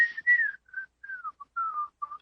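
A tune from Disney's Robin Hood is whistled solo as a clear, close melody of short gliding notes with brief gaps between phrases.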